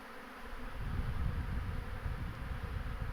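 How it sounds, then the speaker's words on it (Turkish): A honeybee swarm, estimated at four to five frames, buzzes in a steady, dense drone around the hive, close and continuous throughout with no talk. "Evet arkadaşlar oğlumuz bayağı hareketlendi."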